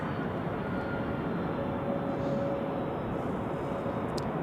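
Steady broadband roar of a Pilatus PC-24 business jet at Zurich Airport on a winter day, a continuous distant engine rumble that holds even throughout, with no voices.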